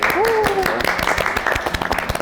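Audience at a hospital interview event clapping for a priest, brisk applause with sharp individual claps thinning out over two seconds, while a voice speaks briefly at the start.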